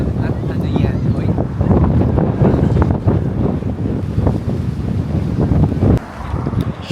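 Rough surf and strong wind on an Oahu beach roar continuously, with heavy buffeting gusts on the microphone and crashing waves filling the low end. People talk faintly underneath.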